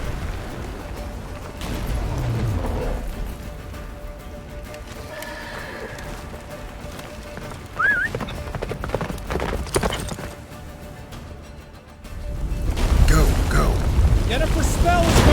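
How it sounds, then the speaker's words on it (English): Hooves gallop in The Witcher 3: Wild Hunt, a quick rhythmic clip-clop with occasional whinnies, mixed with game music, rumbling effects and characters talking over it. "Faster, Roach. Don't stop"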